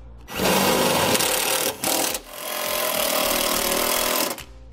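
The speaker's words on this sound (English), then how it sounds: "we can secure it to the body of the vehicle using these screws" A power drill drives 3/8-head self-tapping screws into the body of a 2017 Chevrolet under the hood. It makes a loud, close, continuous whirring grind that breaks off briefly about midway, then runs again before stopping.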